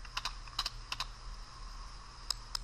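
Clicks of a computer keyboard being typed on, a handful of short, sharp keystrokes in quick bursts with pauses between, close and fairly quiet against a faint room hum.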